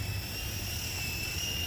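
A Sky Rover Vigilante toy helicopter flies in mild wind, giving a steady, fairly faint buzzing whine with a constant high motor tone and no talking.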